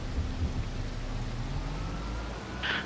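Continuous rain in Farming Simulator 25 hisses evenly with a low rumble beneath, ending with a short higher-pitched sound near the end.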